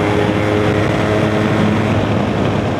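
A Benelli TRK 502 motorcycle engine runs at steady high revs, producing a loud, continuous drone held throughout while riding.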